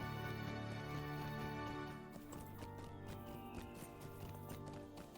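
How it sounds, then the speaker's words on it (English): Horse hooves clip-clopping in the Lord of the Rings Online video game, a steady run of hoofbeats over a layered game music score, moderately loud and continuous. "That's a cool horse."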